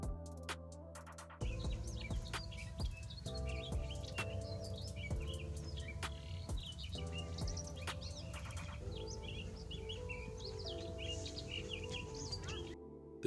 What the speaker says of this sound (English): the Townsend Solitaire.